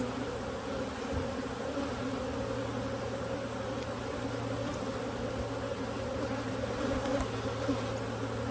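Honey bees buzz steadily during a hive inspection, a continuous close, droning hum with no break, faint in level but present throughout.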